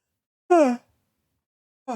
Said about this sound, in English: Sorry, had to yawn for a minute there.